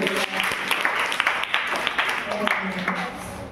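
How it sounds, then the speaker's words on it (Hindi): A classroom of young students claps for a classmate, a dense burst of hand claps that fills the room at moderate volume, with voices and speech mixed in throughout. "Very good, Tali बजाइए Niket."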